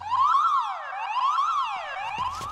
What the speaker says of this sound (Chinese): 有警报。